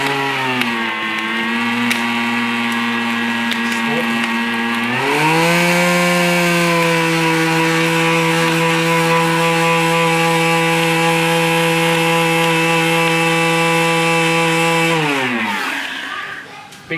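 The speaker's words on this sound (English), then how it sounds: "so then we're going to blend" A blender whirring loudly in a kitchen during Christmas cooking, a sustained motor drone that steps up to a higher speed partway through, holds, then winds down and stops, with no voices over it.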